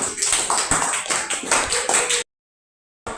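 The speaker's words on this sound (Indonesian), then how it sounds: "Ya, tepuk tangan dulu." A class of children claps hands in a classroom, quick rhythmic bursts of clapping close by that cut to silence before resuming briefly.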